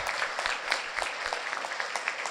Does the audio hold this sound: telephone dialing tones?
no